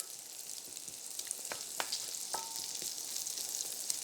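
Onions and bacon frying in a pan for a green bean, sausage and potato casserole, giving a steady soft sizzle with scattered pops and crackles, close but fairly quiet, no voices.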